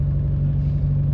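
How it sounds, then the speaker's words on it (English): Mitsubishi Evo IX engine misfiring on cylinder 3, heard as a loud low rumbling idle with an uneven pulsing throb, steady throughout with no voices. "So the car's starting to misfire again"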